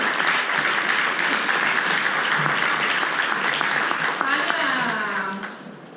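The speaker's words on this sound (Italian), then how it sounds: "Un applauso per Tania." An audience at a conference in Vicenza applauds loudly and steadily for several seconds, then the clapping begins to taper off at the end.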